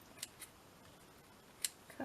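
Scissors trim the ends of a ribbon bow on a tri-fold notebook craft, making a few quiet, sharp snips spaced apart in an otherwise hushed room.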